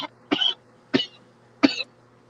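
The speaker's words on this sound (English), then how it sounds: "I might cough from time to time." Three short, harsh coughs, close up, spaced with brief pauses between them in an otherwise quiet room.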